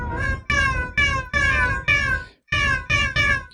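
A cat meows eight times in quick succession, each call loud and close with short pauses between, no other sounds.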